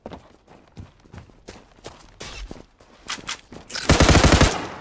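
Gunfire from the online shooter game Zula comes as scattered single shots and short bursts that build to a loud, sustained automatic volley near the end, along with some footstep-like taps.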